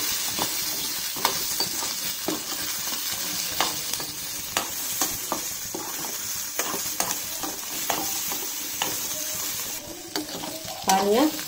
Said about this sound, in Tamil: அதே மாதிரி இஞ்சி இது போட்டு வெங்காயத்தை கூட வணக்கிட்டு